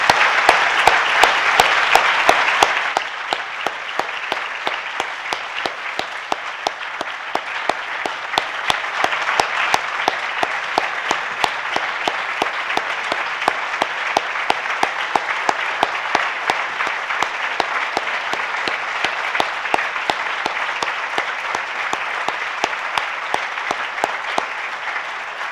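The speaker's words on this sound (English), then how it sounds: "I just want you to give them all an amazing round of applause for all that they did" Sustained audience applause for the Virginia Tech Flint Water Study students and Flint residents, a loud burst of many hands clapping at first and then a steady, dense round of clapping that continues throughout.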